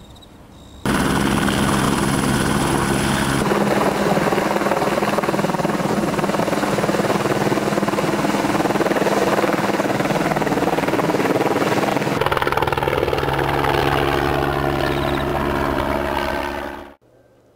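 A light aircraft fitted with an experimental liquid-nitrogen-cooled SQUID magnetic gradiometer system roars steadily through its takeoff run, a loud continuous engine and propeller drone that holds for about sixteen seconds before cutting off abruptly.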